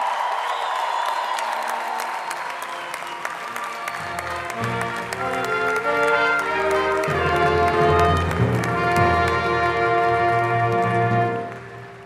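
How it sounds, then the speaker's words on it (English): Graduates applaud and cheer for their families at a 2019 WPI graduate commencement ceremony, a steady wash of clapping and voices over sustained music, swelling partway through and holding until it ends. "give them a big round of applause. Graduates, will you please cheer for them?"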